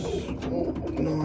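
A racing pigeon coos in low, throaty murmurs close by, with steady background bustle from a pigeon loft.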